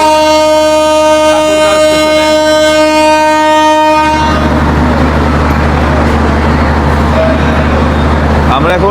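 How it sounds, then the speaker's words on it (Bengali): A Banglabandha Express train pulls out of Thakurgaon station bound for Panchagarh. A steady tonal hum gives way after about four seconds to a loud, continuous rolling rumble of the moving carriages. "ঠাকুরগাঁও থেকে আমাদের এখন ট্রেন ছেড়ে যাচ্ছে পঞ্চগড়ের উদ্দেশ্যে"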